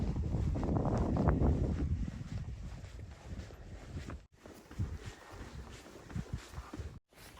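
Cool wind gusts over gypsum sand dunes, buffeting the microphone in a loud rushing roar at first, then easing into softer intermittent gusts and faint rustling.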